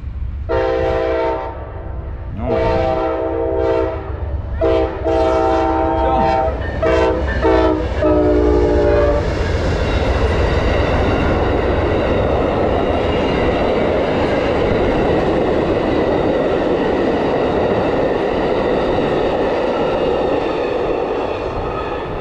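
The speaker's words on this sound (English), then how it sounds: "And there's a train." A big train passes near a rail trail in Florida, horn blasting in several loud repeated honks before the steady rumble and clatter of the cars rolling by fills the rest of the clip.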